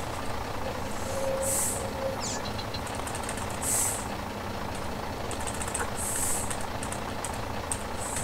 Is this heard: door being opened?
no